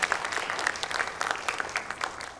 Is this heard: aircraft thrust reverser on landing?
no